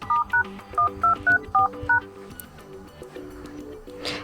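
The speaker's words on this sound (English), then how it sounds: "So at first you need to open your phone dialer, and let me start with the first code, which is pretty easy. It is *1234#." Series of short, loud DTMF keypad beeps as a star-one-two-three-four-hash code is dialed on an OPPO A74 5G phone, about seven crisp tones in quick succession, then a quieter tail of softer interface sounds.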